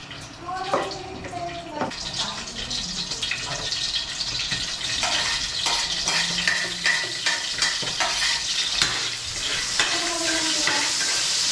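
Oil frying in a pan gives a steady sizzle and hiss, with stirring clatter and scraping on top, while a voice talks briefly in the background.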